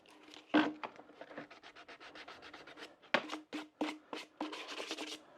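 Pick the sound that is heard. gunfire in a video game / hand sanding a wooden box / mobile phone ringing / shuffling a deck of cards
hand sanding a wooden box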